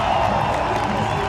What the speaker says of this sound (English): The music is so loud right now, and the crowd is going crazy.